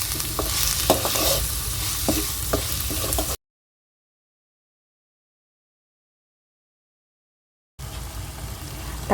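Tomato masala with chilli powder and turmeric stirred and frying in a pan for an egg kurma, a steady close sizzle with scraping strokes, broken by a long silent gap before the frying resumes.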